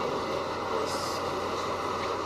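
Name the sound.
NYC subway R68 B train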